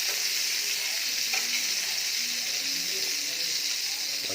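Kamir cake (kue penungkuk) frying in margarine gives off a steady, close sizzling hiss that holds evenly throughout with no voices.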